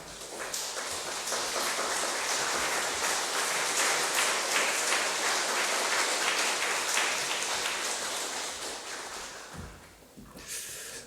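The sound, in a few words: congregation applause during gift presentation at church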